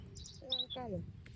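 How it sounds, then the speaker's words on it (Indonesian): Pond heron (blekok) calling near a market area: a short burst of chirping, warbling bird calls lasting under a second, fairly close over a low background hum. "Nah ini ada burung blekok ya pemirsa,"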